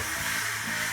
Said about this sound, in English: we're really searing the vegetables against the hot pan before we put any fluid in